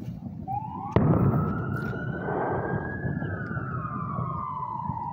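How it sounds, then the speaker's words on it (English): Police sirens wail on the Fourth of July, a rising tone holding steady and slowly falling, loud and fairly close, with a sharp firework-like bang near the start and a dense rumbling background. "At least you get to hear sirens in it."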